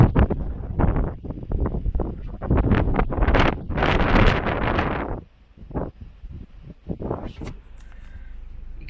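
Strong wind beside a choppy Scottish loch buffets the microphone in loud rumbling gusts that roar and drop away, with brief lulls and faint rustling in between.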